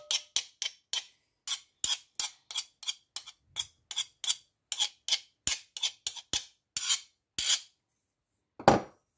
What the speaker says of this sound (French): Je vais renverser le contenu dans un bol.